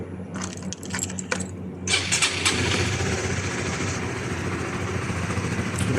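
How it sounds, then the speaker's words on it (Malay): A motorcycle engine cranks and catches after a jingle of keys, then settles into a steady, loud idle close by. "Kita sekarang kita proses nak hidupkan motor."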